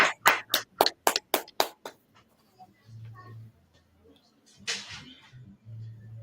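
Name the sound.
audience clapping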